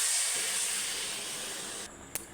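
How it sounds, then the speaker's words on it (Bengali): Water is poured onto hot fried moong dal in a pan, giving a loud burst of steam hiss that settles into a steady spray, with a sharp click near the end. "ডালটা ভাজা হয়ে গেছে এবার আমি জল দিয়ে দেবো"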